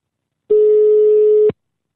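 A telephone ringing tone sounds while a call is being placed, heard as a single steady, clean electronic tone lasting about one second, then cutting off to silence.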